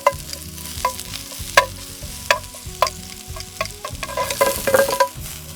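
Spanish onion sizzles steadily in an oiled pan over a camp stove while a utensil scrapes and stirs it in sharp, regular strokes, the frying hiss rising toward the end.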